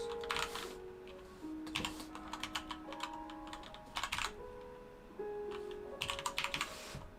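Computer keyboard typing while a personal website is coded in NextJS, in uneven bursts of quick clicky keystrokes separated by short pauses, close and moderately loud.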